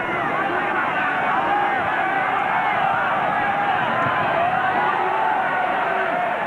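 A huge rugby league crowd of about 24,800 fills a stadium in Canberra, the Raiders hosting the Brisbane Broncos in 1993, producing a loud, continuous roar and hubbub of cheering voices that never lets up.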